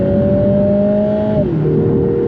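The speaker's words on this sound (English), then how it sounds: "I'm going to come down into 2nd gear, and I'm going to accelerate" A Lotus Emira with manual override pulls hard in second gear, its engine a steady loud drone from inside the cabin that shifts pitch briefly near the end.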